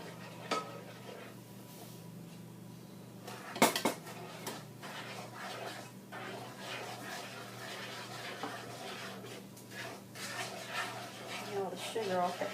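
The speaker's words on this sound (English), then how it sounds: "I'm stirring the eggs, busting the yolks" A utensil stirs eggs and sugar for brownie batter in a bowl, making light scraping and clinking against the sides in irregular strokes, with one sharp clank; close but quiet, under occasional talking.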